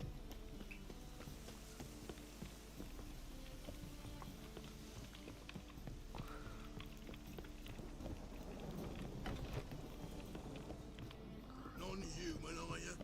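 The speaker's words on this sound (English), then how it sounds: "A storm, damn it." Steady storm rain hissing across a Witcher 3 game landscape, with faint hoofbeat-like clopping and a low rumble underneath, while a voice speaks briefly over it.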